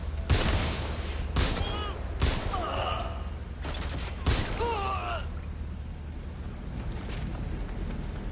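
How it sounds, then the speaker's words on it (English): Bursts of gunfire from the Watch Dogs Legion video game come in several sharp volleys over the first half, mixed with game sound effects, then fade to a quieter background. "Separators open fire!"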